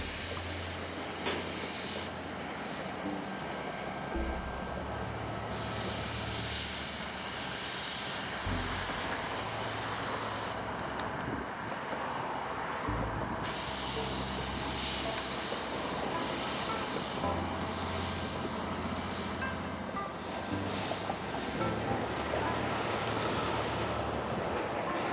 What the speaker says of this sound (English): I barely managed to grab the CSX EMB, leading an empty coal train past Inman Yard